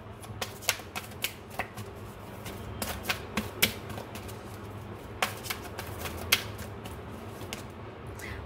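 Tarot cards being shuffled in a large deck give faint, irregular light snaps and flicks over a low steady background, close but quiet, with no voice.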